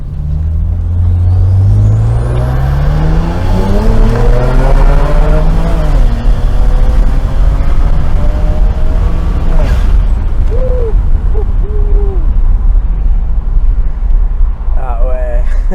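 A Stage 3 tuned BMW 335i E92 engine revs up hard through the gears, its loud rising drone climbing and dropping with each shift, with voices talking over it.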